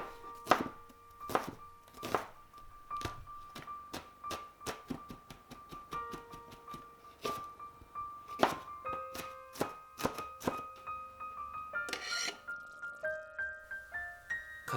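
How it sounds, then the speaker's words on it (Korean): A knife finely chops onion, garlic and green onion on a cutting board in quick, sharp, evenly spaced thunks, close and clear with no talking, before the rhythm turns into a few lighter, scattered taps. "양파, 마늘, 대파를 곱게 다져 한 접시에 함께 담아주세요."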